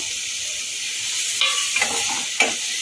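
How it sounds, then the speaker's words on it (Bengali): Boiled eggs dropped into sizzling fried spice masala in a pan for Bengali egg curry, with a steady hiss of frying and a few clinks and scrapes of stirring near the end. "এখন ভেজে রাখা ডিমগুলো এর মধ্যে দিয়ে দেবো।"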